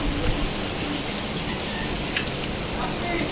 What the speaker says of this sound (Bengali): চারদিকে বৃষ্টির ঝমঝম আওয়াজ